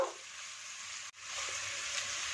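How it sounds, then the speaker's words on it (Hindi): Onions fry in the oil left from cooking chicken seekh kebabs, making a soft, steady sizzle that cuts out for an instant midway and then resumes. "इसी ऑयल में जिसमें हमने सीख कबाब को फ्राई किया है प्याज को भी फ्राई कर लेंगे।"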